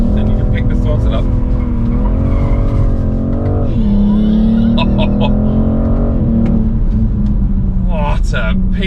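A BMW M440i driven hard on a slippery surface, its engine note rising and falling as the tires squeal and skid, with a person talking over the loud, close cabin sound.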